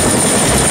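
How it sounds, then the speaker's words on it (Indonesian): A toy helicopter's steady whirring buzz, loud and close, with a high electronic whine, cutting off abruptly at the end. "di sini ada helikopter teman-teman"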